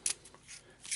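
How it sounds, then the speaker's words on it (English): Deck of board game cards being shuffled, with several short papery riffling bursts close by and quiet, no voices. "let's do a shuffle"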